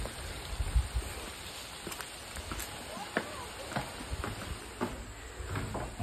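Rain falls steadily as a dense, soft hiss with scattered drips and taps on surfaces, while a voice speaks faintly underneath.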